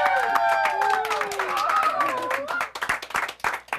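A late-night talk show studio audience claps and cheers while voices talk and shout excitedly over the applause, with the clapping growing sharper and more distinct toward the end.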